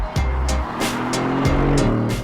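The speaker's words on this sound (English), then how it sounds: "the wind noise fades out, and the roar of the V8 fades right in" A Mercedes-AMG GT C Roadster's 4-litre bi-turbo V8 roars loudly up close, its pitch climbing through repeated rev rises and gear changes under a steady rush of wind.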